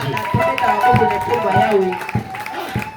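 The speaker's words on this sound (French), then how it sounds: "applaudissez très fort pour la gloire de Dieu" A church congregation claps in steady rhythmic beats alongside sustained singing or voices, the claps loud and close in a full, lively hall.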